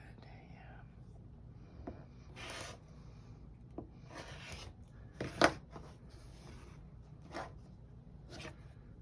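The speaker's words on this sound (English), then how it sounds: "I'm gonna trim some of these up real quick here." Rotary cutter slicing through sewn quilt blocks in a sewing session, a series of close scraping strokes with pauses between cuts, one sharper crunch in the middle.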